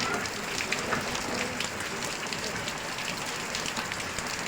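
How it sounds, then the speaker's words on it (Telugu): Steady rainfall hisses evenly and softly throughout, a continuous patter of drops on surfaces with no breaks. "వర్షాలు ఎంజాయ్ చేస్తున్నావా?"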